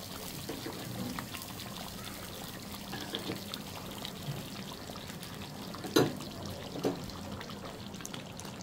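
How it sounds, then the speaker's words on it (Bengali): Ghee poured over pilau with raisins and dried plums makes a quiet, continuous trickle. A brief clink sounds near the middle and a softer one follows. "এখন দিয়ে দেবো উপর দিয়ে ঘি।"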